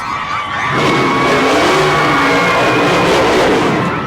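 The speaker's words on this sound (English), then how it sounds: "That would be the 650 horsepower stock car of NASCAR driver Scott Lagasse." A 650 horsepower NASCAR stock car arrives at an elementary school, its engine roaring loud and close as it accelerates, with a squealing tire-skid whine rising over a steady rumble.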